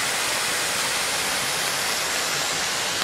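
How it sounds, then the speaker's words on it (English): Water flowing in a natural stream at the Nibutani Ainu community in Hokkaido, Japan, a steady broadband rush like a small waterfall, continuous and fairly loud with no voices. "The water flows, cleansing itself."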